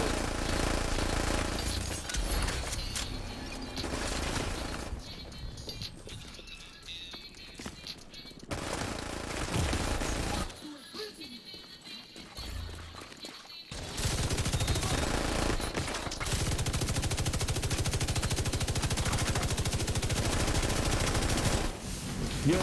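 NPC soldiers in The Division 2 fire heavy automatic weapons, loud and dense, in long sustained bursts that break off for brief gaps before the rattling volleys resume.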